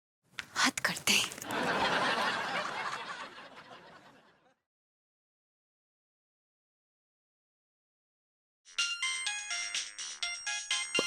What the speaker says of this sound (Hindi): भाभी जी का फोन।